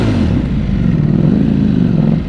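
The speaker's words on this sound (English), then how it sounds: "A little under the bridge revving, I would assume, is in order." Ducati Panigale V4 motorcycle engine revving loudly and steadily beneath a bridge, a deep rumbling drone that holds close and strong throughout with slight rises in pitch.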